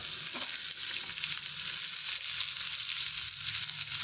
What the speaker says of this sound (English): Just flash fry it for a minute and it's ready for grinding.